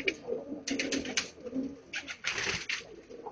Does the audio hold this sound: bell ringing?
no